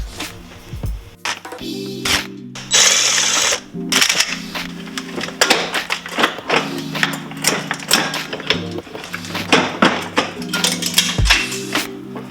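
Ratchet wrench unbolting an intercooler from a turbocharged car engine, the bolts at the turbo and a band clamp being removed: repeated sharp clicking and tapping bursts with a steady mechanical hum underneath, close and fairly loud throughout.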